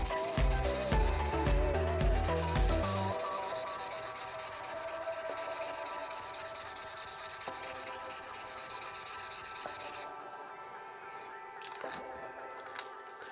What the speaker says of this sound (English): Now to show the difference between the coarse pad and the fine pad, let's try this.